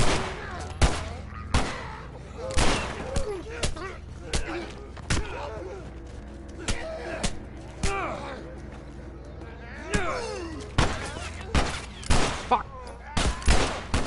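Gunshots from The Last of Us ring out as loud, separate, sharp bangs spread irregularly across the stretch, with a player talking in between.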